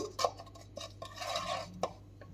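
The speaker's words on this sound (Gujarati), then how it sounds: "આમાં ગરમ તેલ છે તો ગરમ તેલની સાથે આપણે મિક્સ કરી દઈશું" A spoon scrapes and clinks against a pan as spices are stirred into hot oil for masala makhana, soft intermittent taps and scrapes at close range with no voices.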